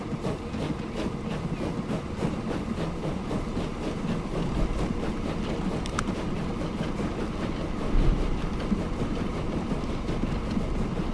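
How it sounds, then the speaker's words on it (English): A sugar-laden freight train in the Transport Fever 2 video game rolls along with a steady rumbling, rattling clatter that holds evenly throughout, with no voices over it. "sugar rattles toward town quickly by train"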